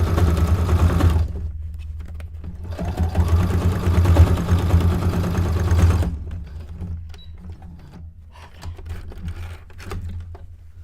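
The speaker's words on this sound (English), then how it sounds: "while I'm sewing" A sewing machine stitches fabric for a cone-shaped cape, running in loud fast bursts with a short pause, then restarting more softly with faint clicks and handling noises.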